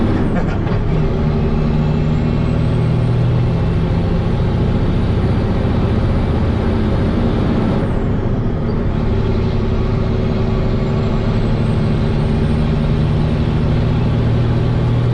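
A truck engine drones steadily as it drives, a constant low rumble with a brief dip in pitch midway.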